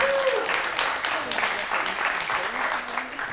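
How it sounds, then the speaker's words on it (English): Crowd at a Philadelphia community gathering applauding steadily, a dense wash of clapping that carries through the whole stretch with voices talking and cheering underneath. "Taj, give him a round of applause"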